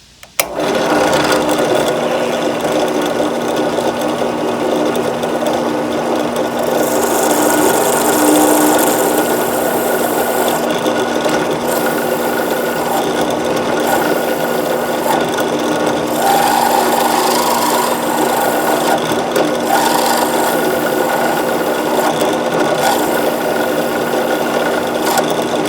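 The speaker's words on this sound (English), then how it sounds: "I use a sharp drill bit and I take my time." A drill with a sharp bit bores slowly into ABS plastic for a freight truck model kit, a steady close whirring grind that runs continuously and shifts slightly in pitch.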